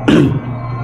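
A single short, rough cough from an itchy throat close to the mic, over quickly and followed by quiet.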